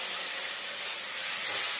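Potatoes, tomatoes and ground spice paste with ginger, cumin, onion and garlic frying in a pan, giving a steady broadband sizzle and hiss that stays close and fairly even throughout, with no voices.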